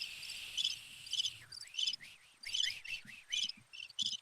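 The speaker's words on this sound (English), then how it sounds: "Yeah, I get the crickets every time." Crickets chirp in a steady run of short repeated bursts, a cricket sound effect played in a quiet indoor setting, clear and alone with no talk.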